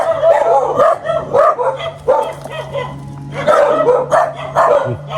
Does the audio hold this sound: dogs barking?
yes